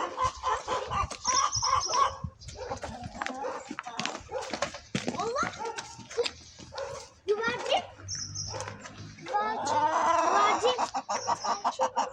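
Chickens cluck and squawk nearby in irregular bursts, a dog barks now and then, and a person talks over the flock.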